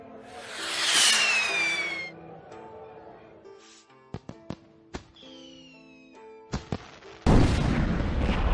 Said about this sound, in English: The force of the explosion sent Mushu and Cricky flying through the air.